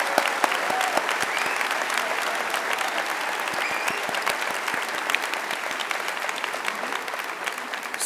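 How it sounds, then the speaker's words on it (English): Applause from an audience of graduates fills the space, a dense, sustained clatter of many hands clapping at a steady level with faint crowd murmur underneath. "Give yourselves a round of applause."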